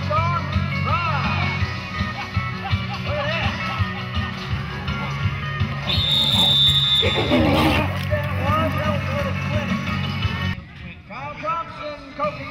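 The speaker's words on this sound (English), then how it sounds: "On a horse called Sweet Spot from the Bold organization" At a Canadian rodeo saddle bronc ride, a bucking horse whinnies and its hooves thud against the arena. An announcer talks over it the whole time, with crowd noise and a loud, reverberant PA mix throughout.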